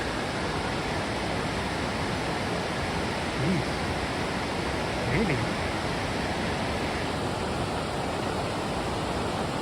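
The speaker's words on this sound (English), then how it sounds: "Look at that cascade." A cascade on the headwaters of the Dosewallips River in Olympic National Park, roaring as a steady broadband rush of falling water, loud and continuous, with brief hikers' voices over it.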